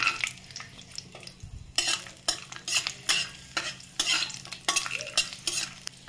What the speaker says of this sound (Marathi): याच्यामध्ये मी काजू आणि बदाम थोडे रोस्ट करून घेणार आहे